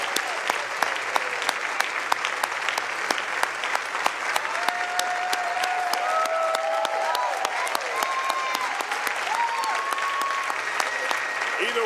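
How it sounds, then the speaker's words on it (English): Steady audience clapping in a live morning news setting, with crisp individual claps over a continuous wash of applause, while faint voices and musical tones drift through in the background. "Keep clapping."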